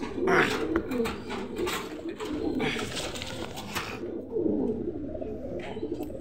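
Pigeons at a pigeon market coo steadily and close by, in soft repeated throaty bursts over a busy background of other birds and low crowd murmur.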